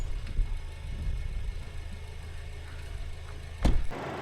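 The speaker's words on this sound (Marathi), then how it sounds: "MH12 आणि ऑडी गाडी आलेली सध्याला." A car engine idles steadily at low pitch, close and continuous, with a brief louder bump near the end; the car is an Audi with MH12 Pune plates, seen on a mountain route near Chandratal toward Manali.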